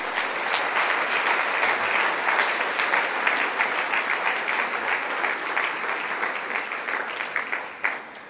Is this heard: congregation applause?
yes